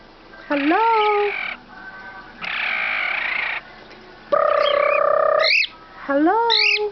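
A pet bird squawks and whistles in several loud, close bursts with rising chirps, separated by short pauses, with no talking during the calls.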